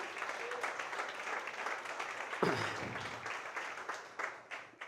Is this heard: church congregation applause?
yes